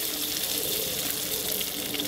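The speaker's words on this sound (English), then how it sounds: "Pour it away from you because that oil might be hot." Chicken with its oily marinade poured into a hot wok on a Volcano portable grill stove, giving a steady, loud, continuous rushing hiss that resembles splashing liquid, with no talk over it.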